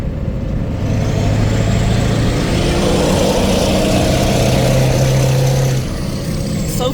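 A 2003 Ford 1-ton Power Stroke diesel pickup drives past a building, its exhaust booming loud and deep with a steady rising drone under a hiss of wind and road noise.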